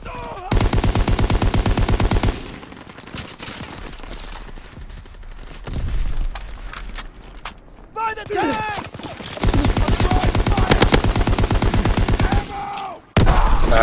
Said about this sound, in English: Ouch, that was a grenade.